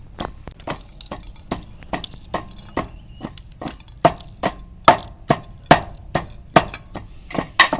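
Raw mango pulp and green chillies for a sweet-sour chutney are pounded in a mortar, a steady run of sharp, evenly spaced thuds, close and loud, with no voices.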